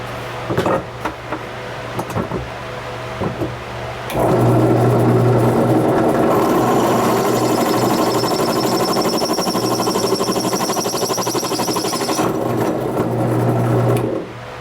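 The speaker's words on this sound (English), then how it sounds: "So I'm going to drill this and tap this." A drill whines steadily for about ten seconds as it bores into metal on a 1984 Kawasaki JS550 jet ski, drilling a hole to tap for a 1/2-inch water cooling fitting, after a few scattered clanks at the start.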